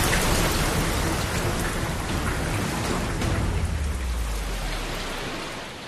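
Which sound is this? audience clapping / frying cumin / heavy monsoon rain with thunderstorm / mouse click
heavy monsoon rain with thunderstorm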